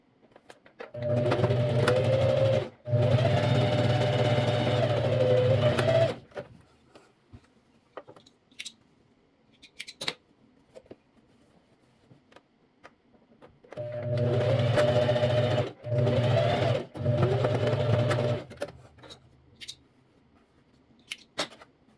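Sewing machine stitching a fabric bag, running in two bursts of steady rapid whirring with short pauses between, close and clear, separated by a long quiet stretch with faint handling clicks.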